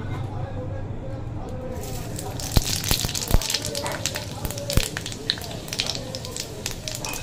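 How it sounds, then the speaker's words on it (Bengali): Panch phoron spices hit hot oil for a Bengali crab tok dish, bursting into a loud, bright sizzle after a quiet moment, peppered with sharp crackling pops that continue steadily. "তেল গরম হয়ে গেছে, দিয়ে দেবো তেলে পাঁচ ফোড়ন।"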